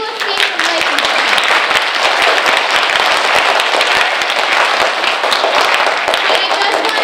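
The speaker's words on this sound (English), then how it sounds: "Give me a round of applause if you think a little escape from life is good." An auditorium audience at a Grimes School Black History assembly breaks into loud, continuous applause, a thick wall of clapping held at full strength throughout.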